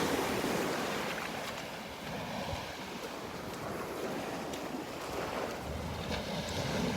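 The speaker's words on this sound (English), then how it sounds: "Just enjoying the sounds of the waves." Ocean surf rolls and breaks continuously on a Gulf beach at Delnor-Wiggins on a morning walk, a steady broadband wash with some wind noise on the microphone and no talking.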